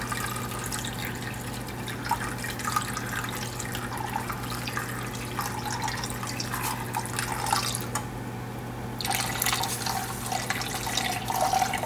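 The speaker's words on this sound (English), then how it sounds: "We'll add some more of that apple cider so we can keep that cooking liquid level nice" Apple cider is poured into a pot where a pork roast is braising, a steady close trickle of liquid with faint drips over constant background hum, no voices.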